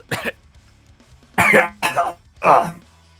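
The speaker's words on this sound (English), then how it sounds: "Don't know why I'm coughing." Four dry coughs close to the mic: one short cough, a pause, then three louder coughs in quick succession.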